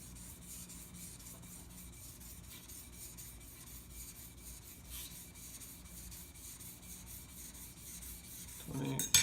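A knife blade is drawn over a sharpening stone in quiet, faint rasping strokes that repeat at an even pace, ending in a louder scrape and clatter.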